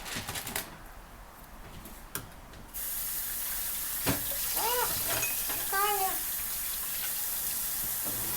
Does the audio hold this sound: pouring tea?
yes